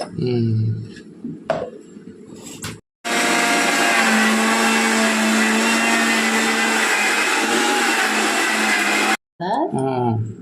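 A kitchen mixer grinder whirs loudly and steadily for about six seconds, blending ginger and garlic with salt and turmeric into a paste, with people talking briefly before and after it runs.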